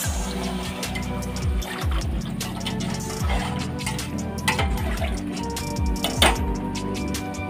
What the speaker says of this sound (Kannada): ಈಗ ನಾವು ಅಳತೆ ಮಾಡಿ ತೆಗೆದಿಟ್ಟ ನೀರನ್ನು ಹಾಕ್ತಾ ಇದ್ದೇನೆ.